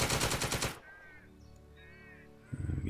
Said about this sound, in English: So let's fire all of our machine guns.